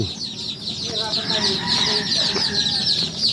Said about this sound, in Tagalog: Ngayong araw ay pakita natin ang first batch naming sisiw